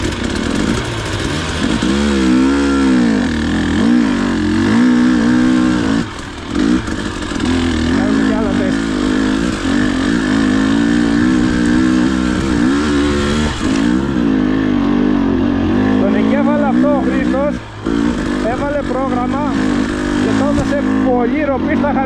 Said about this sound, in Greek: Πολύ ροπή στα χαμηλά το μηχανάκι.